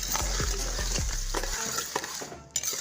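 Pakistani makhandi halwa cooking on low flame, a close sizzle with stirring and scraping in the pan, a low hum fading out midway, no talking.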